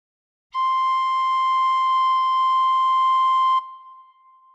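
Tin whistle sustaining one steady, clear note with bright overtones for about three seconds, played alone at moderate loudness, then cut off with a faint lingering tail.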